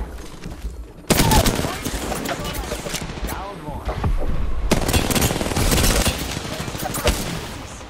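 Rapid automatic gunfire from an R-99 submachine gun and EVA-8 shotgun in an Apex Legends firefight, loud dense bursts close up, with a voice talking over the shooting.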